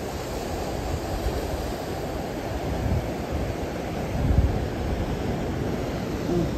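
Ocean surf at Bajamar on Tenerife rolls in as a continuous, broad roar of breaking waves with low rumbling swells and no voices.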